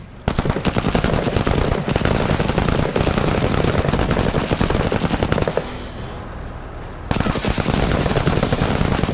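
Sustained machine-gun fire from Marta in the Menace video game, a loud, continuous rattle of rapid shots that briefly thins out before resuming at full intensity.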